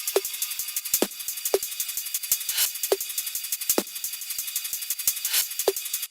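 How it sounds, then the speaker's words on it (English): Layered percussion from a deep liquid drum and bass production, with crisp, busy hi-hat and shaker patterns over sharp, regularly spaced snare-like hits and occasional noise swells, playing alone at moderate level. "we just pop open the percussion group"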